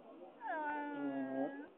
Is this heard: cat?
yes